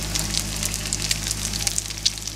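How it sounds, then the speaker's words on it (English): Fried egg crackling in a pan during morning cooking, a steady close sizzle with dense fine pops and spits over a low hum, no talking. "I just love that sizzle of the fried egg"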